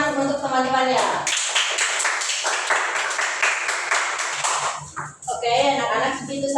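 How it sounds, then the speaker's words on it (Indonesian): Students in a classroom clap together for their classmates after a chemistry lesson, a burst of brisk applause of a few seconds framed by a teacher talking before and after. "Nah, kasih dulu tepuk tangan untuk teman-temannya."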